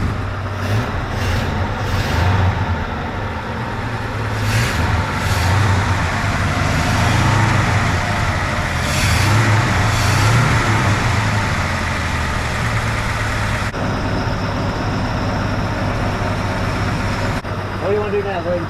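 A 1971 Chevy C10 pickup engine runs steadily at idle throughout, a continuous low rumble with people talking over it.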